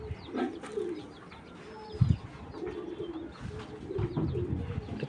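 Pigeons, including a blue-eyed female, coo in soft, low, repeated rounds, with a brief louder thump near the middle and faint bird chirps above.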